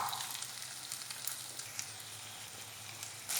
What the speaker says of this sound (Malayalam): ഇനി ഇത് ചെറിയ തീയിൽ മൊരിച്ചിട്ടെടുക്കണം.